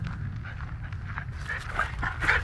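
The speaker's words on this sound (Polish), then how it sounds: "I jak mi się słyszy takie sapanie, to on tam sapie." A dog panting while out on a walk, a quick rhythmic run of breathy puffs close by, growing slightly louder toward the end, with no talking.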